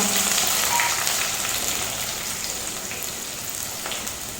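Chopped onions frying in a pan with chana dal give off a steady, close sizzle with a crackling, rain-like hiss that eases slightly over a few seconds. No one speaks.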